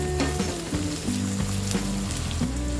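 Onions sizzle in hot oil over a medium flame while being fried soft for an aloo curry, a soft continuous crackle sitting under steady background music with no talking.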